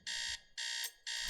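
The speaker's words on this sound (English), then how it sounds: "Oh, that's my alarm clock." Alarm clock ringing inside the Teardown video game, three loud, steady electronic buzzing bursts separated by short gaps, with no talk over it.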